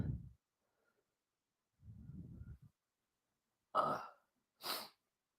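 Two sharp, quiet sneezes in quick succession, each a short explosive burst, following a couple of soft low murmurs during a relaxed Sunday coffee chat.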